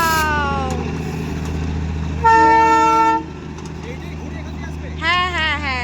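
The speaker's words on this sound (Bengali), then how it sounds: "ওই দেখো ট্রেন যাচ্ছে।" Horn toots sound over a steady low rumble as a train passes at Batasia Loop, Darjeeling, in the rain. One sustained blast sits in the middle and wavering pitched tones come near the end, with people talking throughout.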